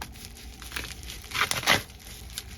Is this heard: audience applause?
no